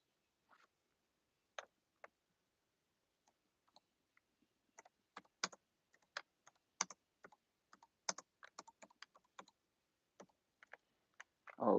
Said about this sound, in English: Okay, I got it typed.